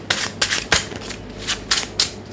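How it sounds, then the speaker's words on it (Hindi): Tarot cards being shuffled by hand, a quick series of about seven crisp riffling bursts in an uneven rhythm, close and clear with no talking. "One last shuffle."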